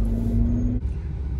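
Steady road traffic rumbles on a street near a bridge with a stoplight, a continuous low car drone with a brief tonal hum that drops away midway, no voices.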